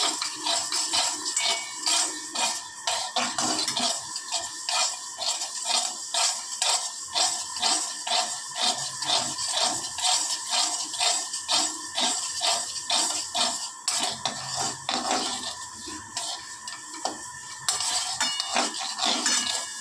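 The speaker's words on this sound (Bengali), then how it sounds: "এখনও তিলটা হয়নি, এখনও অনেক নাড়তে হবে।" Sesame seeds roast in a pan while a spoon stirs them steadily, giving a continuous, rhythmic scraping and rattling that carries on for the whole stretch with no talking.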